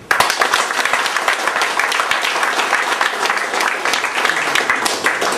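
Strong audience applause at the inauguration of a union computer centre, dense and sustained clapping from a crowd filling the room at close range, with no pauses.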